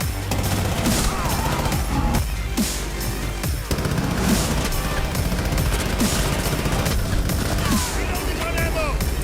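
Rapid automatic gunfire from the Alder weapon in Rainbow Six Siege, firing in sustained bursts with sharp impacts and in-game effects, continuous and loud throughout.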